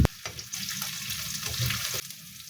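Onions sizzle in a hot pan while being cooked for sambal with fried cencaru fish, a close, steady hiss and crackle that runs briefly and alone.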